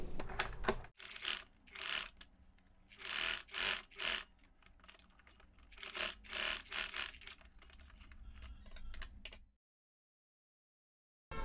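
Sewing machine stitching along the edge of a zipper on a dress, running in short bursts of rapid rhythmic clatter separated by brief pauses, close and alone, then stopping into silence.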